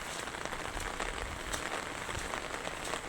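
Rain falls steadily on a rural provincial road, a constant close hiss of drops hitting the ground with no breaks and no voices.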